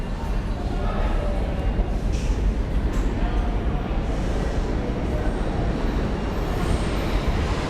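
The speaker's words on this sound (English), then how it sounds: "And here's the number 1 uptown." A New York number 1 uptown subway train arrives, rumbling loudly and steadily, filling the space with continuous rolling noise and faint metallic squeaks above it.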